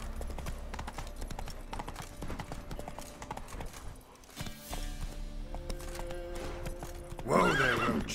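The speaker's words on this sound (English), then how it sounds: "Whoa there, Roach. Oh god, horse, please stop." Roach the horse in The Witcher 3 video game, hooves clip-clopping in a steady rhythm, then a loud, close neigh near the end, over game music and ambient sound; someone talks briefly.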